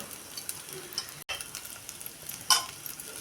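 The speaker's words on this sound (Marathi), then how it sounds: "खोबरं पण आपण ह्या तांदळाबरोबर चांगलं परतून घेऊया" Rice and fresh grated coconut are sautéed together in a pan for saffron coconut rice, giving a soft continuous sizzle broken by scattered scraping clicks of stirring and one brief sharp knock near the end.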